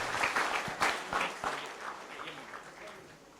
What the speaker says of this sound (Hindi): ये बच्चे को जोरदार तालियां मारिए।